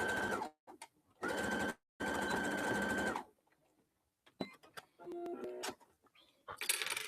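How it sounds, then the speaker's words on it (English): A sewing machine back stitches at the end of a zipper on a fabric pencil pouch, running in three close, steady bursts separated by brief pauses, followed by quieter handling clicks and rustling. "I am reinforcing this by doing a back stitch right when I get to that end there."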